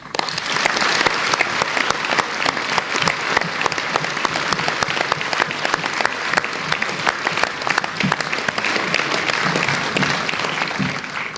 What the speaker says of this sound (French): Je note à l'effervescence des applaudissements qui progressent du film à maintenant.